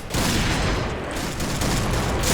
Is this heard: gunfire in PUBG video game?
yes